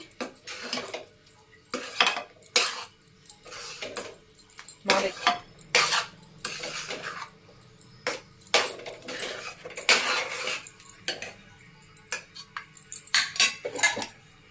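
A spoon stirring ghee into cooked food in a metal pot in a home kitchen gives repeated scraping clinks and taps against the pot, coming in irregular bursts with short pauses.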